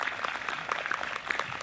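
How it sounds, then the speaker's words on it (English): Brief, fairly faint clapping from a crowd at an outdoor community blueberry picnic, thanking a group of singers; scattered individual claps are distinguishable within the short burst. "how about a nice round of applause to say thank you"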